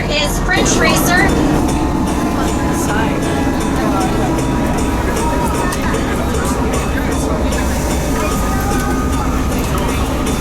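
The Pikes Peak cog railway train rumbles along steadily with a low, continuous mechanical drone and faint rhythmic clatter, heard from inside the car while an announcer speaks over it.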